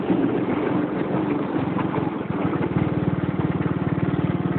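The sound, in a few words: ATCO/John Deere garden tractor engine driving in third gear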